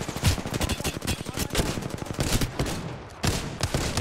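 Dense, continuous automatic gunfire from a video game battle rattles almost without pause, loud and close, with a short dip before the rapid bursts resume.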